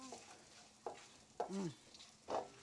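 Rasam tempering with asafetida being sauteed in a pan: faint, close stirring scrapes and soft sizzling, with a few brief louder scrapes spaced irregularly.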